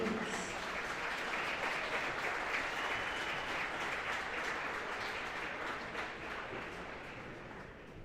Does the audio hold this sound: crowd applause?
yes